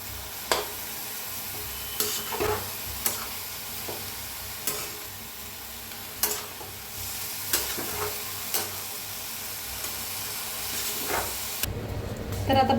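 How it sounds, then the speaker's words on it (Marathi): Leafy vegetables stirred in a kadhai, with a steady sizzle under repeated sharp scrapes and knocks of the spatula against the pan at a loose, even rhythm, close up. "तर आता भाजी छान अशी मिक्स करून घेतलेली आहे"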